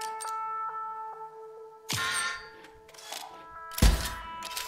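A card laid on the board in the video game Inscryption gives dull, soft thunks, two of them a couple of seconds apart, over a quiet backdrop of faint chiming tones.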